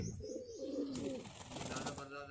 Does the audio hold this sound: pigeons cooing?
yes